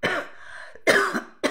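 Three harsh coughs close to the microphone, the first drawn out, then two short bursts after a brief pause.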